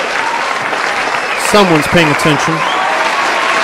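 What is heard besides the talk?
audience clapping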